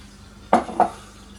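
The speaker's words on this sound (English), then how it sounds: "So let me grab a bowl." A bowl is picked up in a home kitchen, giving two quick, close clinks a moment apart over a quiet background.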